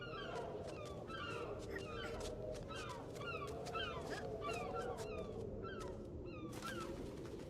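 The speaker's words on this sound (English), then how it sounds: "I wonder how many seagull sound bites there are in the world" Seagull calls in a video game repeat as a steady series of short, harsh squawks over a constant background hum, fairly faint and distant throughout.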